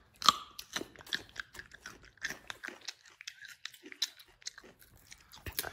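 Someone bites into and chews a raw yellow carrot, producing a series of close, sharp crunches followed by quieter chewing in short irregular bursts.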